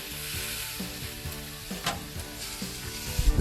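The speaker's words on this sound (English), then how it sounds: "now we're going to flip her over. Get a sear going on the other side" A wagyu steak searing on grill grates at about 500 degrees, giving a loud continuous close sizzle with a few clicks and knocks, and no talking.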